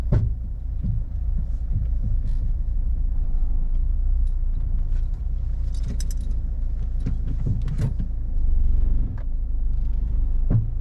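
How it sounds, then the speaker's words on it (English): Car with a worn suspension spring heard from inside the cabin while driving, a steady low road rumble with scattered rattles, clunks and metallic jangles over the drive. "Just take it on another drive so you can hear what it sounds like inside the vehicle."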